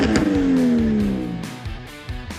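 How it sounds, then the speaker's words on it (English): The RB26 engine of a Nissan Skyline GTR R33 revs hard and then winds down in a falling whine, heard as a recording playing loud and alone. "RB26. That's a Skyline GTR R33 there."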